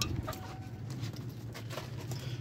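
Rain falls steadily in Lahore near an outdoor bird enclosure, a faint soft patter with scattered light drips and taps, no talking.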